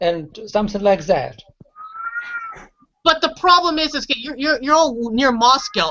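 A house cat gives a short, rising meow, fairly faint, in a brief pause between stretches of someone talking; his voice surrounds it on both sides.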